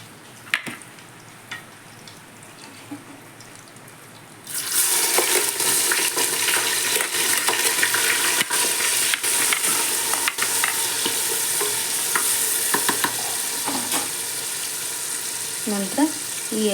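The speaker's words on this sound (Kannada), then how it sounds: "ಈ ಪಾತ್ರೆಗೆ ನಾವು ಕೈಮಾ ಉಂಡೆಯನ್ನು ಹುರಿದು ತಗೊಂಡಿದ್ವಲ್ವ, ಈಗ ಇದಕ್ಕೆ ಈರುಳ್ಳಿ ಹಾಕ್ಕೊಳ್ತೀನಿ." Chopped onions go into a pot that already holds fried mutton keema balls. A loud, steady sizzle with stirring noises bursts in after a few seconds of quiet and carries on to the end.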